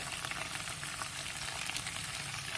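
Curry paste and curry powder frying in cooking oil, a steady dense sizzle filling the whole stretch, close and even, with no voices.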